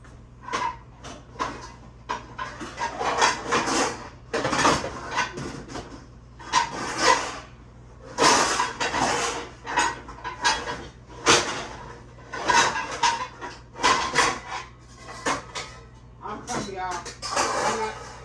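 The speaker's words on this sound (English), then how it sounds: "So we're going to switch pans here." Metal cooking pans and a wok clatter and scrape in a home kitchen, with repeated bangs and shuffles spaced through the stretch, close and fairly loud, while a person talks.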